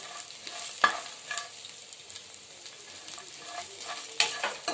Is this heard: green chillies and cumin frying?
yes